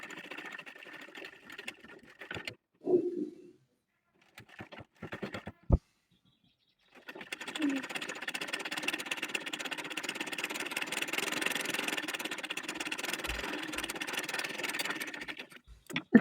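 A sewing machine stitches the folded half-inch back neckline of a baby frock made of Bexi voile fabric, running in a short burst early, then a long steady whirring stretch after a pause.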